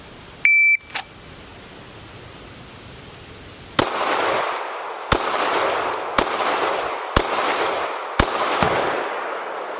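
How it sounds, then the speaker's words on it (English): Five sharp handgun shots fired at a target at 7 yards ring out at an even, controlled pace, each a loud crack with a short ringing tail, following a brief electronic beep. "But I'm going to fire 5 rounds, and I'm going to do it as controlled as possible"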